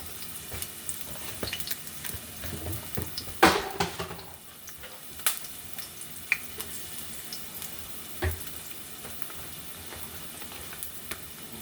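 Onion frying fast in a pan for yellow vegetable rice, a steady close crackling sizzle with scattered pops and occasional utensil clatter, louder in the first few seconds before settling.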